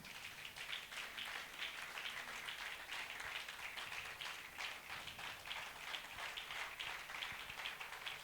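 A church congregation at a Sunday service applauds together in a dense, steady wash of many hands clapping, continuous and fairly distant, with no voices rising above it.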